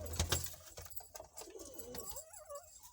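Pigeons coo softly nearby with throaty, warbling calls, mixed with faint rustling and small clicks in a quiet space.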